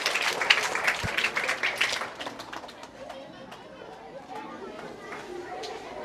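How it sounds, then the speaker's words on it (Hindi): A comedy show audience breaks into applause to welcome a performer, with a burst of clapping and crowd chatter at the start that fades into a softer murmur of room noise. "एक बार जोरदार तालियों से आप सभी उनका स्वागत कीजिए।"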